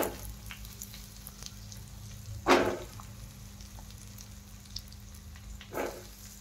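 Stuffed bitter gourds frying in oil in a pan over low heat, a steady soft sizzle with a couple of louder bursts as pieces are stirred or turned.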